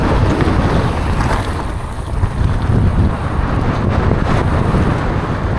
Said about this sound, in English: all of that wind kind of dried everything out a little bit, but it still pushes you over kind of